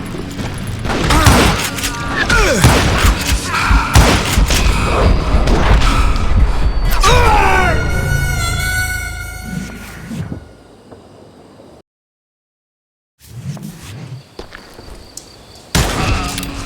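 Gunfire in Call of Juarez: Gunslinger, a Wild West shooter set in Parachute, Colorado: a dense burst of repeated shots and impacts over several seconds, then a lull with ringing tones, a gap of silence and a few more scattered shots.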